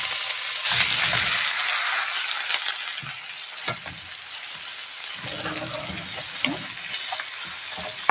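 Minced meat sizzles and crackles in hot melted lamb fat and ghee in a pan, a loud continuous frying hiss with occasional stirring knocks and scrapes close by.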